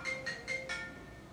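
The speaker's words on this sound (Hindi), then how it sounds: "किसका फोन आ रहा है?" A phone rings indoors with a rapid electronic trill, four short bursts repeating steadily before fading, fairly faint, with no voices over it.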